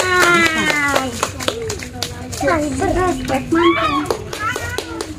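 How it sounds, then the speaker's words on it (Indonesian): Children clap together after singing at an Indonesian Independence Day celebration, with quick scattered claps mixed into loud children's voices and chatter close by. "Oke, tepuk tangan, tepuk tangan."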